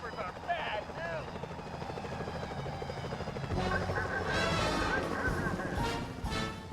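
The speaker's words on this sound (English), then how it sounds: "Careful, Sly. Those security choppers are bad news." Security helicopters in the game Sly Cooper: Thieves in Time give a steady, loud rotor thrum that builds louder partway through, with voices talking over it.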